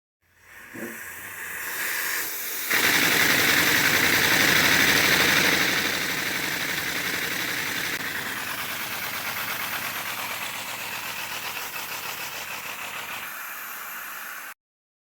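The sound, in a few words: 3D printed V10 air engine running on 5 cylinders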